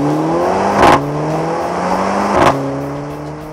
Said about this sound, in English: you'll be familiar with the barrage of turbo noises coming from under the hood too